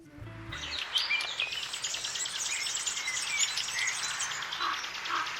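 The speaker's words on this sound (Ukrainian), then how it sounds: "я прокинулась від веселого співу і дзвону пташиних голосів за вікном" Lively birdsong fills the air, many chirps and trills overlapping continuously at moderate distance, with a brief low thud at the very start.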